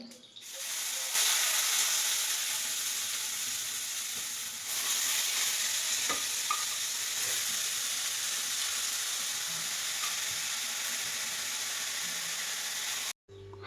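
Grated pumpkin fries in ghee in a wok for pumpkin halwa, giving a steady close sizzle and hiss with occasional stirring scrapes. It stops abruptly near the end.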